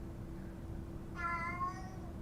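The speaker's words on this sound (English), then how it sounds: "Sorry, my cat's meowing." A cat gives one drawn-out meow, fairly faint and close by in a quiet room with a low steady hum underneath; no one speaks.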